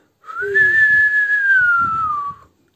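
A single drawn-out whistle, rising then gliding slowly down, imitating a wolf's little whistle at the moon, held clear for about two seconds over soft murmuring talk.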